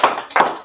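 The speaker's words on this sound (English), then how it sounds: "clap, clap it up." Two or three sharp, close hand claps in quick succession, brief and isolated, at a gathering of the Israelite School of Universal Practical Knowledge.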